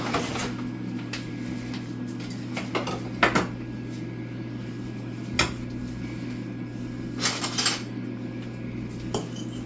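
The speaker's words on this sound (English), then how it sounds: "we're going to take the fork and break the egg, and we're just going to whisk it around a little bit" A fork clinks against a bowl while an egg is broken and whisked. A few sharp, scattered metallic taps sound over a steady electrical hum, and no one speaks.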